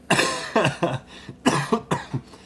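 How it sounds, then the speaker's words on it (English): A run of harsh, close coughs in quick bursts, several hacking fits separated by brief pauses, with no talking. "don't mean to cough and hack into the microphone here"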